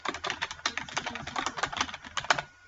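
Rapid typing on a computer keyboard while entering text into a spreadsheet, a dense stream of close, crisp key clicks lasting a few seconds.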